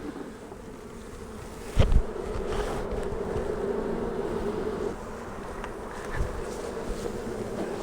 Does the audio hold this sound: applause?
no